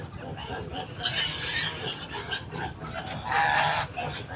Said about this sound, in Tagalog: Ayun na guys yung ating mga alagang manok.